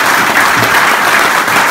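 A loud, dense burst of audience applause erupts at a network marketing talk, close and continuous for a brief moment.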